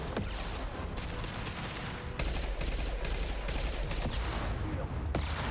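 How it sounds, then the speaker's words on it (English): Gunfire in the Mass Effect Legendary Edition video game, a dense, fairly quiet stretch of rapid shots and blasts with sharp sudden onsets rolling through a combat scene. "Firing an impact shot."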